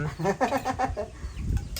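A chicken clucks in a quick run of short, close calls, followed by softer rustling and low thumps.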